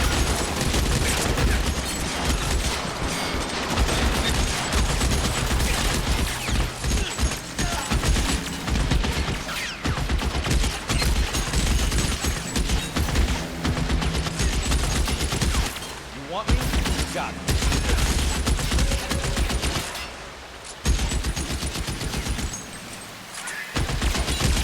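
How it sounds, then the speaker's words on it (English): Sustained automatic gunfire from a shootout in the L.A. Noire video game, loud and unbroken for the whole stretch with booming bursts and brief dips, mixed with game sounds and occasional voices. "Apparently they just shoot forever."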